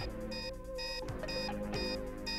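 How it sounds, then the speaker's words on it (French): An alarm signal in an animated cartoon sounds as repeated steady electronic beeps in short bursts with brief gaps, fairly faint and layered over a sustained tonal background. "Le signal d'alarme"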